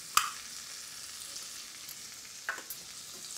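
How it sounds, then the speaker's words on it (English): Cumin seeds frying in hot butter and oil in a pan, a soft steady sizzle with a couple of sharp crackles, close and moderately quiet, no talking. "So straight away into that I'm going to put a teaspoon of cumin seeds."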